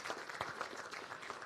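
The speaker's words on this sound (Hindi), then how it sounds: "आपसे भी अपेक्षा है, तालियों से थोड़ा स्वागत कीजिए।" An event audience applauds to welcome chairman Anil Bansal at a news channel's gathering honouring doctors. The clapping is a faint, dense and continuous patter heard from a distance.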